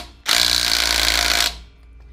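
A Craftsman V20 quarter-inch impact driver loosening a lug nut hammers in one loud, continuous burst of rapid impacts lasting just over a second, then stops abruptly.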